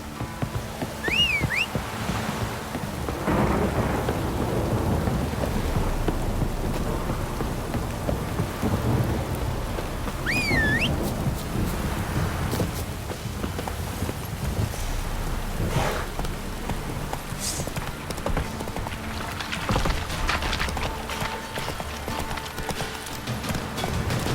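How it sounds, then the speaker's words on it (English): Steady heavy rain in The Witcher 3 pours throughout, a dense broadband wash with occasional rumbles and splashes, loud and continuous with no voices. "This downpour's a bastard"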